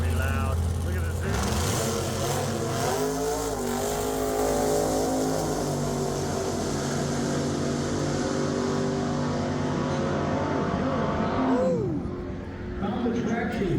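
Pontiac muscle cars roar past on a race track at the Pontiac Nationals, engines rising and falling in pitch as they accelerate and sweep by, loud and continuous, with voices faintly underneath.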